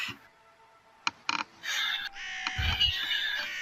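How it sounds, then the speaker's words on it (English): A sound effect in a role-playing game session: a couple of short clicks, then harsh crow caws and squawks, fairly close and layered over a low grunting rumble, with no talk. "Well, from now on, maybe we should be mindful of the crows."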